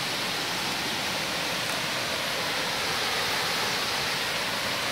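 A waterfall in the Maden creek valley roars as a steady, dense, broadband rush, loud and unbroken throughout with no voices over it.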